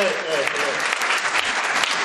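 A theatre audience in Rome claps at a season presentation, a dense, even burst of applause filling the room, with voices mixed into the noise.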